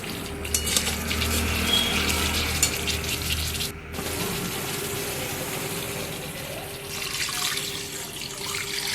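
Water poured into a frying catla fish curry pan, a rushing splash over a sizzling hiss with a brief pause midway, then continued bubbling and frying.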